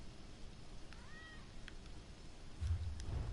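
A cat in a video game gives a single short, faint meow over a low background hum, followed by some muffled thumping.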